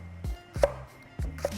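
A knife chops leek on a cutting board for a coconut chicken curry: four close, crisp thuds in two quick pairs, with quiet gaps between them.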